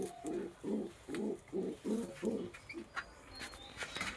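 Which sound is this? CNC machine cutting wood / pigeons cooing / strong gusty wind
pigeons cooing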